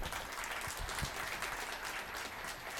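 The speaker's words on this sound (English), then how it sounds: "How about a nice round of applause for Maria Ho?" An audience applauds poker player Maria Ho, a brief, fairly faint round of steady clapping from a room.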